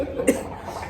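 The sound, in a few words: cough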